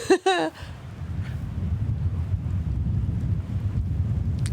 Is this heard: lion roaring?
no